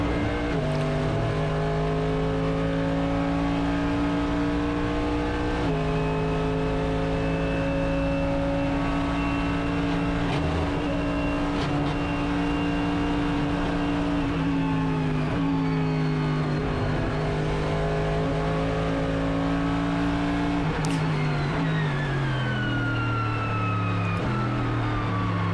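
A race car on a push lap sends out a loud, sustained engine drone that rises and falls in pitch through gear changes, with a sharp shift near the end, heard up close and continuously.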